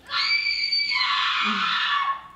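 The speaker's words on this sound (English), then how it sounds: "they always start with some woman screaming" A woman screams in one long, loud, high-pitched cry. It holds steady for about two seconds, then fades.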